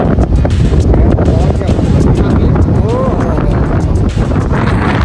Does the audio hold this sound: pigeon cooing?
no